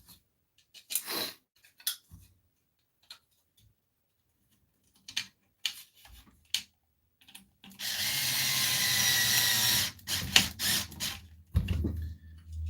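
A power drill drives screws into ABS plastic on a Tamiya Porsche 934 model build, with scattered clicks and handling, then a sustained whirring burst of several seconds followed by short ratcheting spurts, close up.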